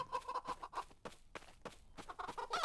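Short, repeated chicken clucks in a Roblox game, in bursts, fairly close and of moderate loudness, with brief pauses between calls.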